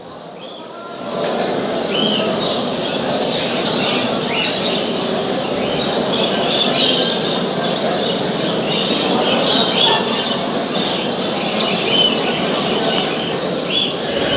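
Birds squawking at an Istanbul pet expo, repeated sharp calls and chirps over a dense indoor crowd murmur with voices talking in the background.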